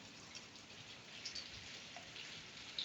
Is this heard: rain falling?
yes